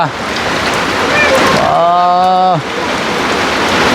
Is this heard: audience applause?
no